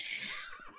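A Minecraft horse whinnies in a short, thin, wavering neigh, faint and close, alone without other sounds.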